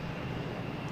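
Porter Airlines airliner inbound from Ottawa on approach to Boston Logan, a steady, fairly loud engine roar holding constant with no talk.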